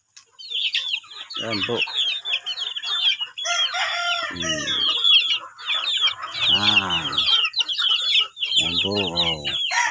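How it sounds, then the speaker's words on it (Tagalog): Hens, a rooster and many chicks fill a farmyard with repeated clucks, a crow-like call and high peeping chirps, near and lively, while a person speaks a few words briefly between the calls. "maraming sisiw guys"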